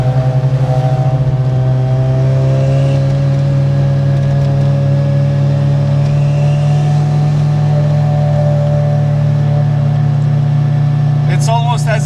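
Mazda RX-7 rotary engines drone on a winding mountain touge road, a loud, steady low hum with layered harmonics from inside the car, sliding slightly in pitch as it cruises.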